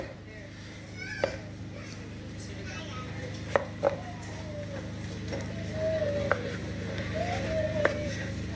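Vegetables for a traditional Irish stew are chopped with a knife on a board, a handful of sharp, separate thuds spaced a second or so apart, over a low room hum and quiet voices, including a child's.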